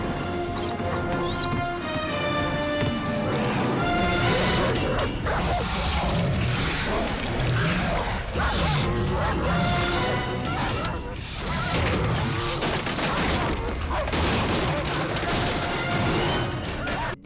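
A dog battling a werewolf in the 1996 horror film Bad Moon: dense snarling, growling and barking with crashes and impacts, loud throughout and mixed with a musical score.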